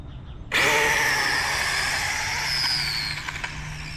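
A radio-controlled HPI RS4 car fitted with an HPI Pro 4 motor bursts into a loud, high electric whine that rises in pitch as it accelerates, holding for a few seconds before tapering off.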